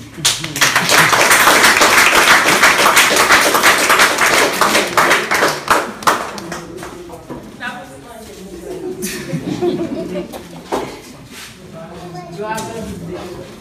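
An audience at a society's installation ceremony claps loudly and densely for about six seconds, then the applause thins into scattered claps mixed with chatter and laughter.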